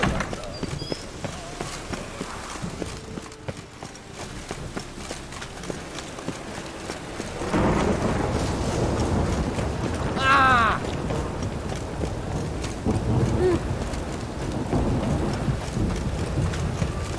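Steady hissing rain throughout in the video game The Witcher 3: Wild Hunt, growing heavier partway in, with a low rumble of thunder beneath; a brief chirping sound cuts through midway.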